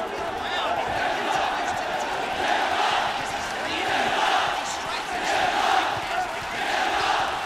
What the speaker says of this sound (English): The crowd getting involved again.